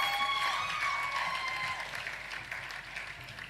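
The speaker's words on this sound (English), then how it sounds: "Let's get another resounding round of applause for T Black." A crowd at the Saint Lucia National Youth Awards applauds for an honoree, warm sustained clapping that swells at first and then slowly thins out, with a few faint cheers mixed in.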